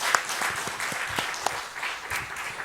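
A church congregation claps for teachers and middle and high school students, a short burst of scattered hand clapping with distinct individual claps, fairly close, and no talk over it.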